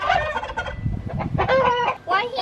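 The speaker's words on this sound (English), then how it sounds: "That's how turkeys talk." A turkey gobbles loudly and close by in several warbling bursts, with low barnyard rustle beneath.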